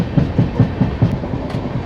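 A WAG-12 electric goods locomotive hauls a coal-laden freight train, its wagon wheels thumping over rail joints in a loud, steady clickety-clack rhythm nearby.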